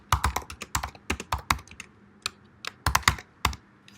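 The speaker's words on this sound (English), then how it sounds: "So let's go ahead and type something." Crisp individual keystrokes tap out in irregular clusters on a computer keyboard, close-miked with short pauses between bursts and no talking.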